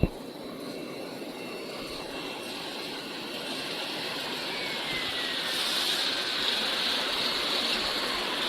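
Air blower running in the bubbling washing tank of an automatic French fries and potato chips production line, giving a steady broadband rush of churning, bubbling water with a mechanical hum, continuous and fairly loud with no talk.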